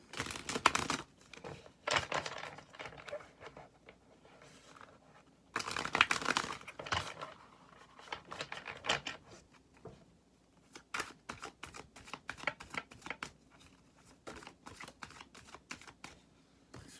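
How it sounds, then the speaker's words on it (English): Tarot cards are shuffled in several quick riffling bursts with crisp flicks and pauses between, close by and fairly quiet, with no talking. "I'm going to shuffle this."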